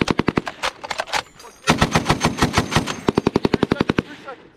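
An M2A1 heavy machine gun fires cyclic bursts on a range, loud rapid strings of sharp reports broken by short pauses, then a final burst that ends in ringing decay.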